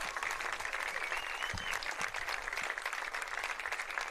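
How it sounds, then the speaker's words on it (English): A crowd at a high school football game applauds the 2019 2A state champion Nemaha Central Thunder, steady dense clapping heard from a distance with a few louder thumps partway through. "one big round of applause for our 2019 2A state champions"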